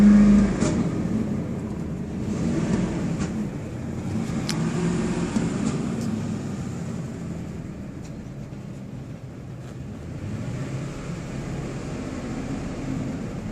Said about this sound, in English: I'm gonna rev it.